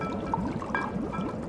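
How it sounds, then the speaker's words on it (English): A 2013 California red blend reserve wine poured into a glass in a brief, close, steady stream with light gurgling and trickling. "Nice healthy pour."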